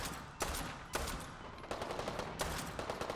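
Enemy gunfire in Fallout 4 with a hardcore AI mod, shots fired around a corner inside a building as several sharp bursts, each a loud crack followed by rattling fire, spaced unevenly.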